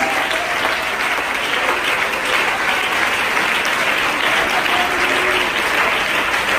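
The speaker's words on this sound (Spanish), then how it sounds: "Denle ese aplauso a Jesús." A church congregation applauds steadily, a dense, even wash of many hands clapping throughout, with faint voices mixed in.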